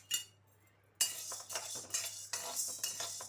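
Chana dal roasting in a kadai gives off dry clinks and scraping stirs of a utensil against metal, coming in irregular bursts after a brief quiet gap, close and fairly loud.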